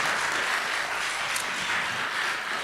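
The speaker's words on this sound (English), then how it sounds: "One more round of applause for some pretty special speakers for you today." An audience applauds speakers at a financial literacy fair closing event, a continuous, even roar of many hands clapping, steady and fairly close, with no talking over it.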